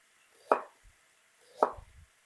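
A knife slices thinly through cabbage on a board with two crisp, separate cutting strokes about a second apart, each a short crunchy chop, close and quiet.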